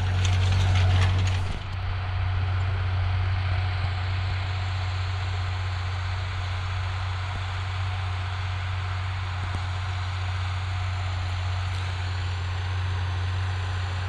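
A steady, low engine drone heard from inside a closed tractor cab while the tractor pulls a harrow through former no-till land. A brief rattle opens, then the hum runs unchanged and constant.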